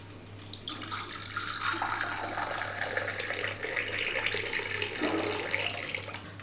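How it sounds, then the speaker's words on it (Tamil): Hot water pours into a cup of whisked matcha tea, a steady close splashing stream that runs for several seconds without pause. "இப்போ நம்ம தேவையான அளவு ஃபுல்லா தண்ணி ஊத்திக்கலாம்."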